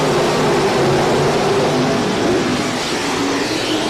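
Dirt track race cars at a county fair speedway accelerating hard down the back straightaway, a loud, steady engine roar sustained throughout with no voices.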